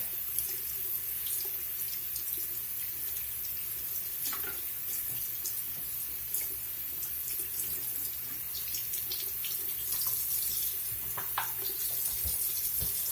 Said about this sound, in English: while the water's still running